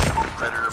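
Gunfire in the mobile shooter Call of Duty Mobile, a short dense burst of rapid shots blended with game sound effects.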